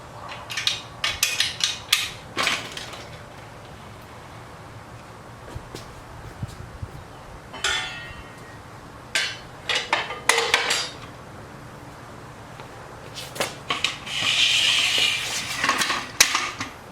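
Metal clanks and knocks as a lift stand is pulled from under a Yamaha YZ125 dirt bike and a triangle stand is fitted into the rear axle, scattered sharp clinks and scrapes with quiet gaps between.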